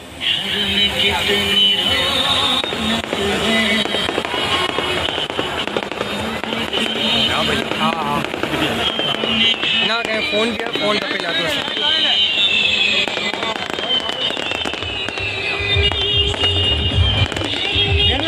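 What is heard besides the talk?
fireworks exploding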